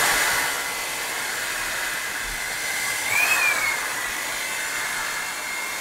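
An electric blender or mixer running steadily as salt is blended into homemade washing liquid, a continuous close whirring drone with a slight rise in pitch midway.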